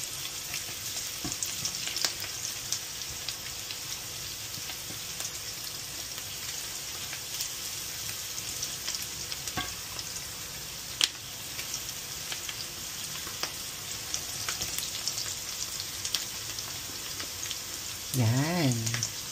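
Garlic and onions fry in a pan with a soft, steady sizzle and scattered pops and stirring clicks, fairly quiet and close. A brief voice comes near the end.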